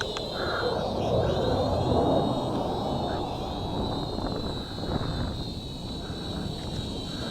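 Shengkai D97 WiFi FPV drone flying outdoors and doing flips, a steady buzzing whine with a high tonal pitch running unbroken over wind rumble throughout.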